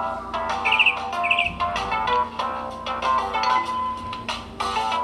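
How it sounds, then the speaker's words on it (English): Birds chirping from the software sounds on a Samsung Vibrant phone, two quick bright twittering bursts among ongoing clicky, tonal background audio, fairly loud and close. "Got some birds chirping."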